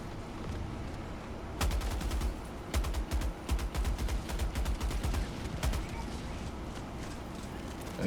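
Rapid bursts of gunfire in the Helldivers video game, several volleys of sharp repeated shots filling the middle of the clip over a steady background of combat noise.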